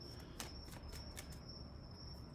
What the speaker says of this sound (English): The frogs and crickets.